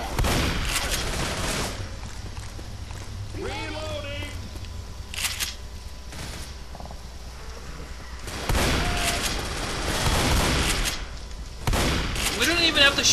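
Gunfire from players shooting zombies in Left 4 Dead comes in loud bursts of rapid shots at the start and again in the second half, with crackling impacts between, while people talk over the action.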